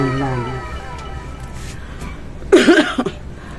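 A woman's cough, a short burst of two or three harsh coughs near the end, following quiet indoor talk in a small home shop.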